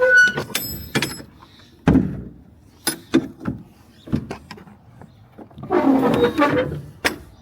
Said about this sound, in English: I'm fighting with the door handle here while I'm trying to videotape myself